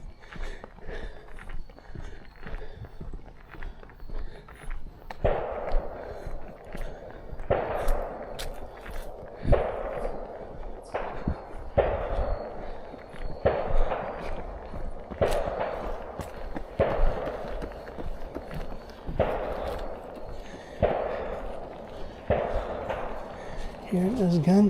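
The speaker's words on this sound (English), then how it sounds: "Hearing those gunshots again." Distant gunshots heard during an outdoor walk on a paved surface, a series of dull thuds spaced a couple of seconds apart behind footsteps and ambient noise.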